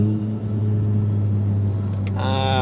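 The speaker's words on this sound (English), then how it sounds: "The engine whine is a little too 4-cylinder-ish" Steady four-cylinder engine drone and whine from a Volkswagen MK7 GTI, heard from inside the car while driving, a continuous low hum that holds level for the whole stretch, with a brief higher tonal rise near the end.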